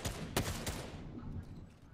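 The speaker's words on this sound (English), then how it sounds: "Ooh, I hear gunshots." Gunshots ring out in the Fortnite video game, two or three sharp cracks early on, followed by a fading tail of lower rumble and faint background noise.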